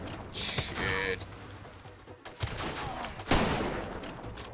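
Gunfire in the video game Malaria, a few sharp shots and mechanical clatter over a low game backdrop, with one stronger report late on.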